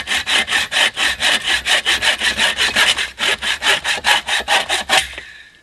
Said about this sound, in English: So we're gonna cut about the same diameter with this saw too.